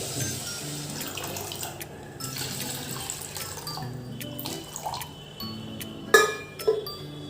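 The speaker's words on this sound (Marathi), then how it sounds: "आता मी पाणी घालते" Water runs and trickles steadily into a container of soaking rice and lentils, a soft continuous pour with a few clinks and small splashes near the end.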